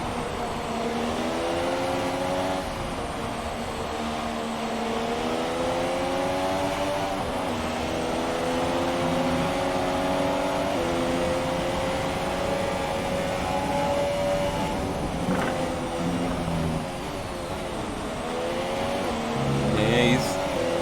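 A race car engine howls around the Suzuka circuit in the F1 2017 video game, a continuous whine rising and falling in pitch through gear changes and corners, with a commentator talking over it.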